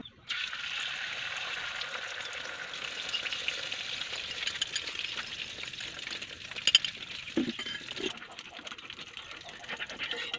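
Eggs fry in hot cooking oil in a pan with a steady, fairly soft crackling sizzle that continues throughout, plus a few faint clinks toward the end.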